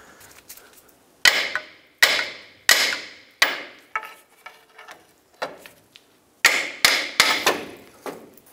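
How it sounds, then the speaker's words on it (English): A hammer taps a lower control arm off the ball joint on a 1996-2002 Toyota 4Runner, a dozen or so sharp metallic strikes in uneven clusters with ringing decays, close and clear without talk. "Pry down, and then I'm gonna tap with a hammer at the same time."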